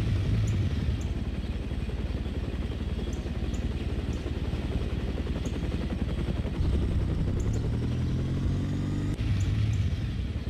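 Helicopter in the video game No One Lives Forever, a steady rotor and engine drone mixed with a motorcycle engine, continuous and moderately loud, with faint clanks and sharp clicks.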